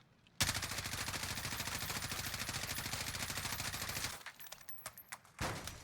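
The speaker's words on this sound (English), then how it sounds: "I'm gonna shoot." Gunfire in a shooter video game played with aim assist and anti-recoil mods: one loud, sustained automatic burst for about four seconds, then a pause and a few shorter bursts.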